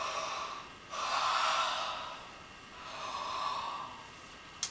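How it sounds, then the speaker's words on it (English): Slow, breathy airflow in two long swells with a pause between, like deep drawn-in yawns, close and fairly quiet, with no talking. "So I'm going to give everyone permission to yawn."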